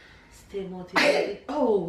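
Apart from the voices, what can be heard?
sneeze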